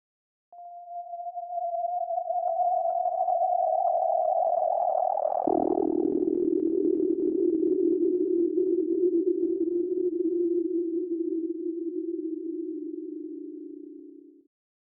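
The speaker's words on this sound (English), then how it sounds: "As you can hear, there are two notes, one at pitch 77 and one at pitch 65." Two synthesized SuperCollider notes at pitches 77 and 65: a higher pure tone gradually swells, then drops into a lower, slightly crackly sustained note that holds steadily for about nine seconds before cutting off.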